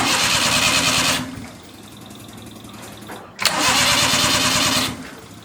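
A 1990 Suzuki Carry minivan being started. The starter cranks loudly for about a second, then there is a quieter pause, a click, and another cranking burst before it fades.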